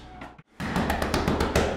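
A door knocked on repeatedly, a short tap, a pause, then a steady run of firm, close knocks in an even rhythm.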